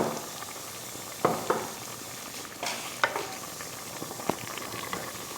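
Chicken liver and gizzard adobo simmers in a vinegar sauce with a constant close bubbling hiss, broken by occasional scraping clinks as it is stirred in the pan.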